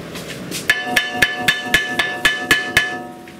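A hammer strikes brake parts on a 2020 Ford Expedition Max Limited, ten sharp metallic blows in a steady, evenly spaced rhythm, each ringing briefly, loud and close with no talking.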